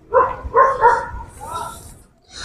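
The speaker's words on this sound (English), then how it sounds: "You hear the dogs? They agree." Dogs bark a few times in the background, fairly faint and blending with other noise, briefly heard beneath a voice.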